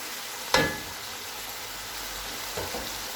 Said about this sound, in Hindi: देखिए कीमा अच्छे से फ्राई हो गया